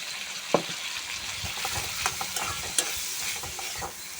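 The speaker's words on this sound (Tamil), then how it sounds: "நல்லா இதை அப்படியே வதக்கி கொடுத்துக்குங்க" Tomatoes with curry leaves and rock salt sautéing in a pan, a steady close sizzle broken by scraping stirs and light clinks of the spoon, with no voices.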